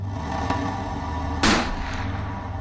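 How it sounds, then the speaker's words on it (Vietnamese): A gunshot sound effect in a Vietnamese folk ghost story: one loud, sharp blast with a brief rumbling tail, heard alone after a faint earlier click. "Lại một tiếng súng nữa vang lên."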